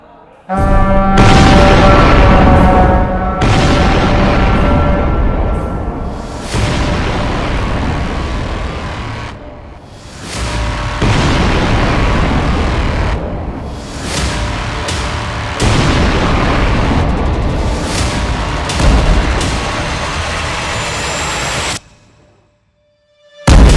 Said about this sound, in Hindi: आज भी तेहरान समेत ईरान के कई शहरों में जबरदस्त बमबारी हुई।